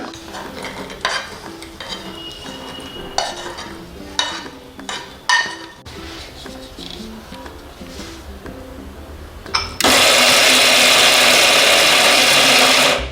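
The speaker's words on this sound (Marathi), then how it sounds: "हे आपण दाणे जे आहेत सगळे भाजलेले होते ते पण यामध्येच मी घालते मिक्सरमध्ये" A kitchen mixer grinder whirs loudly and steadily for the last few seconds, grinding roasted peanuts (dana) for an undhiyu-style mixed vegetable dish, after scattered clinks and stirring noises.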